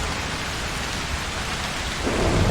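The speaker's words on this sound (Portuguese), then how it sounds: "Agora eu tenho que iniciar a tempestade." A thunderstorm rolls in the video game Broken Pieces, steady dense rainfall hissing with low rumbling thunder that swells slightly toward the end, no voices present.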